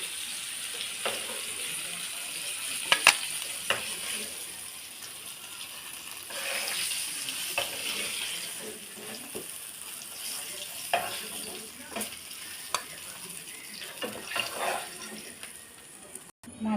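Hilsa fish fries in oil with a continuous hiss and crackle, broken by scattered pops, clinks of utensils and stirring that rise and fall across the stretch.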